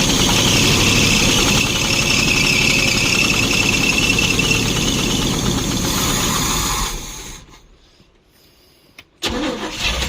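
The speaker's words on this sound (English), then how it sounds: "There we go, idling on her own." The engine of an old 1972 Barth motorhome idles loudly and steadily with a continuous rumble, then cuts out into near silence before sputtering back briefly at the end.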